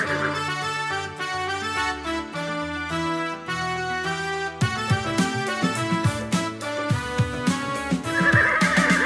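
A horse neighs within a Hindi nursery rhyme, its whinny rising over a busy, loud musical backing and standing out most clearly toward the end.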